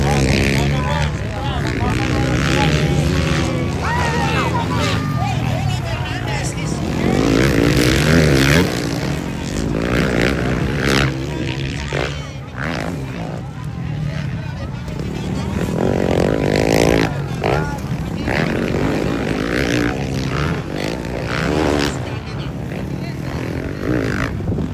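Motocross motorcycles race in a Pro 1 heat at a competition in Passi City, engines whining and revving from middle distance as they close in, largely under excited commentary from a nearby voice.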